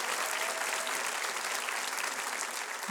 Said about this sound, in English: Yes, you should applaud.